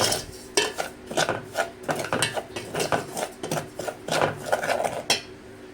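Semolina (rava) roasting in a pan for kesari, stirred with a utensil that scrapes and clinks against the metal in a quick, irregular rhythm, close and clear with no talking.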